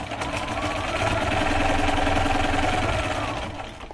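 A sewing machine stitches small corner pieces for a quilt block, a steady, fast mechanical whir that rises in the middle and fades toward the end.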